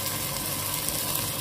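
Lamb and green chillies fry for yakhni pulao in a pot, giving a dense, steady sizzle that fills the moment evenly and closely, with no speech over it.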